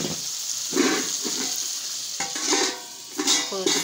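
Arrowroots and potatoes cooking in a pot for stew, giving a soft hiss and bubbling with a few stirring scrapes and light clinks, close by and steady with no talk.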